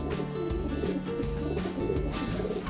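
Racing pigeons cooing close by in a breeder's loft, a steady run of low, repeated rolling coos with no talking.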